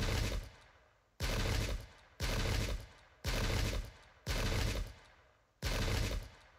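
Musket volleys crack in the Pike and Shot battle game, with six loud, evenly spaced blasts about a second apart, each decaying briefly before the next.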